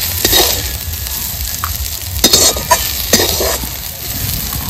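Malabar spinach frying in a pan in a village kitchen, a steady sizzle with scattered stirring clinks and scrapes of a spatula against the pan, close and fairly loud, no voices.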